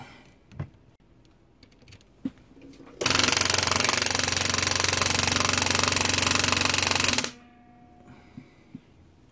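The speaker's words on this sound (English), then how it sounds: "And the other pump makes this much noise." A second electric fuel pump, a Facet or BraveX, clatters loudly in a fast, steady rattling buzz for about four seconds between quieter moments with a few faint clicks.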